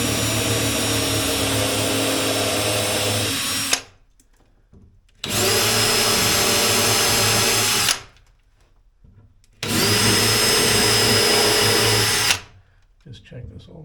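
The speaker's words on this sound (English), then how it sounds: "only want to drill this hole for these screws" Three long bursts from a power drill boring screw holes for a deck vent, each running about three to four seconds at a loud, steady whine with short quiet gaps between them.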